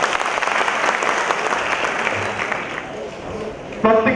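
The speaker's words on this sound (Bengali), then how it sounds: "আমরা করতালির মাধ্যমে তাদেরকে অভিবাদন জানাই।" Audience applause at a formal gathering greeting a visiting delegation, a dense steady clatter of many hands clapping throughout, close and fairly loud, with a brief sharper burst near the end.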